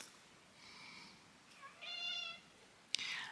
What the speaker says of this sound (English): is actually my own tabby. She is here meowing at my feet.